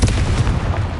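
Blasting Confringo spell exploding in Hogwarts Legacy, a dense one-second burst of booming, crackling impacts, loud and near, with no speech over it.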